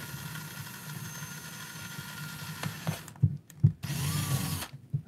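A power drill whirs steadily for a few seconds while drilling an ECX Barrage 1/24 RC crawler, then bursts on and off in short spurts with brief pauses between, close and clear.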